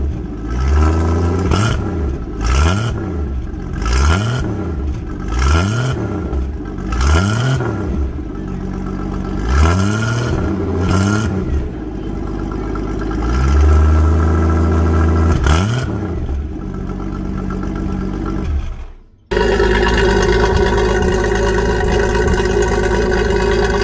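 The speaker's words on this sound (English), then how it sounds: "If you have any ideas on how to make the exhaust sound better than that" A car's exhaust revs repeatedly in short rising-and-falling bursts, then holds a longer steady rev before cutting off abruptly; a steady idle-like drone follows, heard close and loud with no talk.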